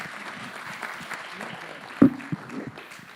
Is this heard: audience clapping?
yes